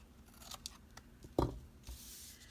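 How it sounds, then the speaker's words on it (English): Scissors snipping the corner off a paper journal card: a few light close clicks, then one firmer cut, quiet and with no talking. "Cut the little corner off of this one as well"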